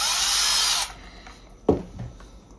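A power drill whirs steadily for under a second while enlarging a hole in a kids' Ibanez bass guitar, then stops; a couple of sharp knocks and handling clatters follow in the quieter tail.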